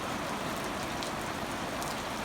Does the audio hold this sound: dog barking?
no